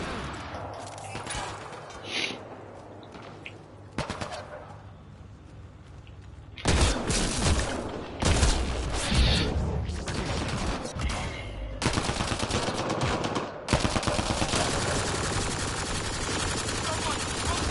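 Squad gunfire in the video game Mass Effect: Andromeda, sustained automatic weapons fire from several shooters that rattles on in dense, loud bursts with brief lulls, close and heavy throughout.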